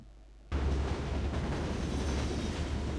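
Rumbling train ride in a video game, a loud continuous rolling roar with dense low rumble that bursts in abruptly after a quiet half-second and holds steady throughout.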